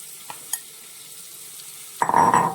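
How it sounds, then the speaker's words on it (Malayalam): Garlic, green chilli and onion hit a hot pan for sautéing, bringing a sudden loud sizzle and stirring near the end after a quiet start with a couple of faint clinks. "അതുപോലെ തന്നെ കറിവേപ്പിലയും കൂടി ഇട്ട് നന്നായിട്ട് വഴറ്റിയെടുക്കാൻ പോവുകയാണ്"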